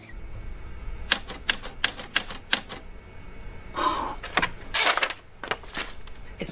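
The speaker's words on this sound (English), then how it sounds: "Does your family own a typewriter?" Typing on a typewriter at close range, a series of sharp, irregular key strikes with brief pauses and a couple of longer mechanical carriage or lever sounds, no talking.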